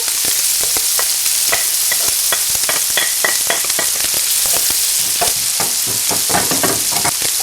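Garlic and ginger sizzle loudly in hot oil in a wok, a steady bright crackle with frequent spatula scrapes and stirring clacks throughout, no voices.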